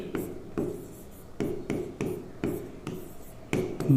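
Chalk or marker writing math on a board during a polynomial division lesson, rhythmic scratchy strokes repeating every half second or so, close and moderately loud.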